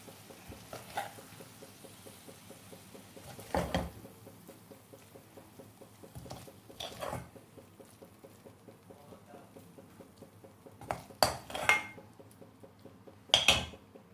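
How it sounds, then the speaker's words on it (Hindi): Seyal phulka, leftover chapatis cooked Sindhi style, being served from the pan onto a plate: scattered sharp clinks and scrapes of utensils against dishes, with quiet pauses between them. "आइए इसे प्लेट में निकाल लेते हैं"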